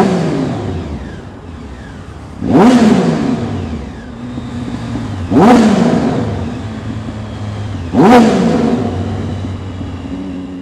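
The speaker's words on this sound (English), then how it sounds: "I am going to miss these exhausts" A Jaguar's exhausts rev hard three times at evenly spaced intervals, each a sharp rising blip that quickly falls away, loud and close over a steady idling burble between bursts.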